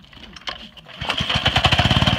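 A small engine, run after beer was put into it, is pull-started with choke: a short rope-pull burst, then it catches and settles into a loud, steady, rapid putter close by.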